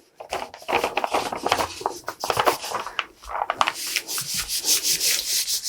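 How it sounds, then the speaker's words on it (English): Transfer tape being rubbed down over a vinyl design, quick scratchy rubbing and scraping strokes in uneven bursts, close and fairly soft with no talking. "So we'll just put a piece of transfer tape right over the top of our design."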